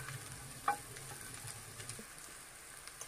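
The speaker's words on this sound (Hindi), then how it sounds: "अब चिकन को ये नूडल्स में अच्छी तरह से मिक्स कर लेंगे" Fried chicken being stirred into noodles and vegetables in a pan, with soft continuous sizzling and a few light clicks of a utensil against the pan, close and fairly quiet, with no voices.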